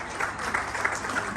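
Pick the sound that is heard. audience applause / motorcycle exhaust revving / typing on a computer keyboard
audience applause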